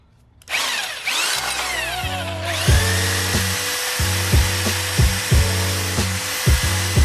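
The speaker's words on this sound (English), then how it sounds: "So I need to go ahead and drill some holes kind of to extend this." Power drill boring holes in rear end link suspension parts on a Genesis Coupe, a steady whining motor running continuously with repeated rhythmic surges as the bit bites into metal, close and loud.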